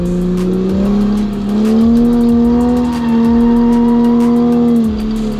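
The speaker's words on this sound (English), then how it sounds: "as the rear of the vehicle steps out, we steer into it, and that creates a drift" A car drifting through a corner with oversteer, its engine revving hard in a steady droning note that rises and dips, with repeated tire squeal and skidding throughout.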